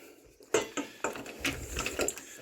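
A wooden spoon stirs melting chocolate in a hot bowl, giving a few distinct scrapes and knocks against the bowl over soft, continuous rubbing, close and fairly quiet.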